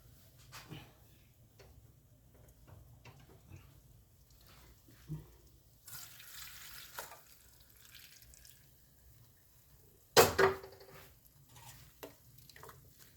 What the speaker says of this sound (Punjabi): ਹੁਣ ਆਪਾਂ ਇਹਦੇ ਵਿੱਚ ਤੇਲ ਨੂੰ ਛਾਣ ਲਾਂਗੇ